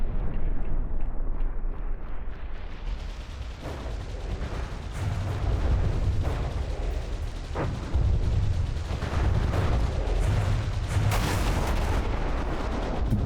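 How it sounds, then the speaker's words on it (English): A burst of big naval guns firing in the game From the Depths, with several deep booming blasts spread across the stretch over a rolling low rumble and crackle of distant impacts. "we are gonna line up for a burst of our big guns"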